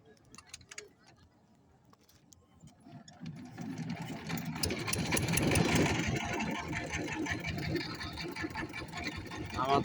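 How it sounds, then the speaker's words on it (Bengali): A ferry boat engine at a river ghat on the Dhaleshwari starts up and settles into a steady, loud mechanical chugging that builds over several seconds, with people talking nearby. "নৌকাটা এইমাত্র স্টার্ট করলো। অতি তাড়াতাড়ি আমরা রওনা হব।"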